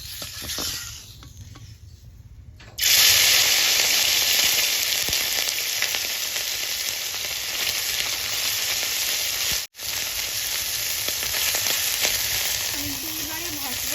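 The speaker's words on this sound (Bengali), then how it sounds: "কড়াইটা গরম হলে মাছগুলো আমি ভেজে নেব" Small mola fish drop into hot oil in a kadai and set off a sudden, loud, steady sizzle that hisses on continuously, with one brief dip partway through.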